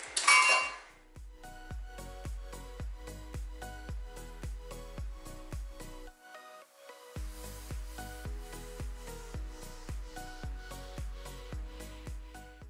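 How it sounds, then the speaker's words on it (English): A spoon clinks against a pot as a cornstarch syrup mixture is stirred, sounding as a regular rhythmic series of light metallic taps. The taps pause briefly partway through, then resume at a steady pace. "So we're gonna stir this until it gets to a boil"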